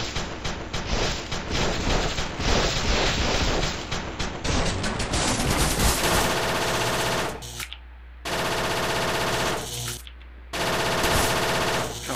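Rapid automatic gunfire in the top-down shooter game Crimsonland, dense rattling bursts that run continuously, then break off into brief silences between later volleys, loud and close with no talk.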